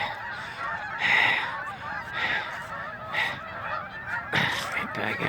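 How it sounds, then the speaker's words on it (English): Outdoor Canada geese give repeated honks in several bursts, loud and fairly close, separated by short pauses over a low background rumble. "The Canadian geese, they just go anywhere."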